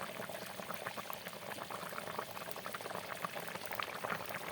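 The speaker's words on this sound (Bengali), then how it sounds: "এই যে টকবক করে ফুটছে" A pot of goat meat curry, cooked in a rural village kitchen, bubbles and simmers in a continuous, steady rolling boil, close and fairly quiet with no voices over it.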